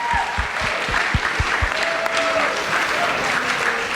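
A school audience at a student senate event applauds, with dense, steady clapping from a room full of people, fairly close and sustained throughout.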